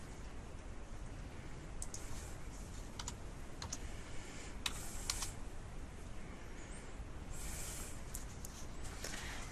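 Keys on a computer keyboard are tapped to enter a web address into a browser's address bar, a series of faint, sparse clicks over a quiet room hiss.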